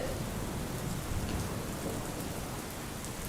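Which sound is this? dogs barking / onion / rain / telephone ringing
rain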